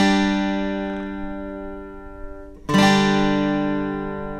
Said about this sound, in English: There's a part that's played on an electric guitar